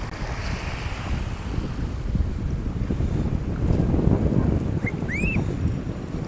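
Sea waves wash steadily along the Manila Bay shore under gusty wind noise. A faint bird chirp cuts through near the end.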